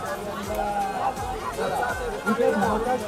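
Dense crowd chatter and hubbub fill a busy Navratri temple fair at Shree Kelamba Devi, with many overlapping voices blending into a steady, moderately loud babble without pause.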